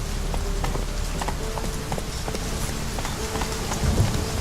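Roach the horse's hoofbeats in The Witcher 3, a steady trotting clip-clop with regular vertical strikes running the whole time, under a constant soft hiss like rain and low game ambience, with no voices.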